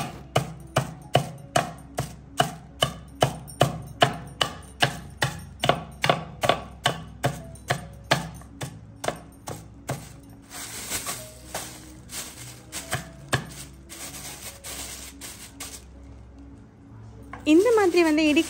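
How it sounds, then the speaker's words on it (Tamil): Dried vathal sealed in a plastic bag is pounded in a steady rhythm, about two dozen sharp close thuds for ten seconds, then fainter scattered knocks, with talk throughout. "இந்த மாதிரி ஒரு பிளாஸ்டிக் பேக்கில் போட்டுட்டு அதை வந்து நல்லா இந்த மாதிரி இடிச்சிட்ருக்குறாங்க"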